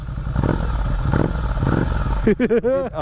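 A 2020 Ducati Scrambler Cafe Racer motorcycle exhaust chugs in a loud, throbbing rhythm up close, then revs up and down sharply at the end.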